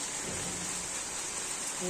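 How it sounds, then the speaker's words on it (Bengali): Evening rain falls heavily on a home garden with guava, lemon and coconut trees, a dense steady wash of sound up close throughout, with no speech. "এখন আমাদের প্রায় সন্ধে লেগে গেছে, এখন বৃষ্টিটা নেমেছে"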